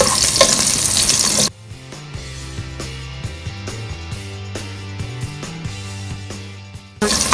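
Onion sautés in a pan for lomi, a hiss that surges at the start, gives way to quieter tonal music in the middle, then returns loudly at the end.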